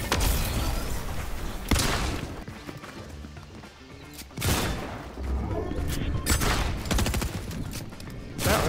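Gunfire in the video game Fortnite, with bursts of loud shots and rapid fusillades separated by short lulls.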